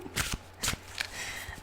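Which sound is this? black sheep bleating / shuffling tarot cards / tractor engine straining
shuffling tarot cards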